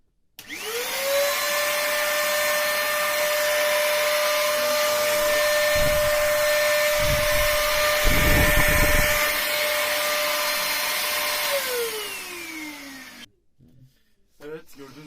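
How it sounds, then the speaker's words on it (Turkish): An Arzum 500-watt handheld vacuum cleaner with washable filter whirs to life, runs steadily with a loud high whine for several seconds, then winds down and stops. "Evet başlatıyorum süpürgeyi."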